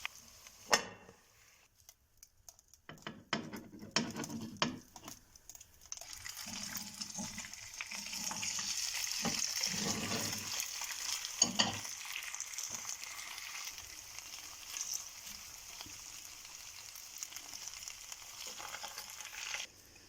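Potatoes fry in a pan with a soft, steady sizzle and crackle, joined by intermittent clicks and handling noises, faint and close with no talking.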